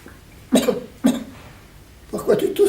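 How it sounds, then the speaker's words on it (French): Three separate coughs from a man, two short ones close together and then a longer, rougher one after a pause, heard near and clear against a quiet background. "Pourquoi tu tousses, tonton?"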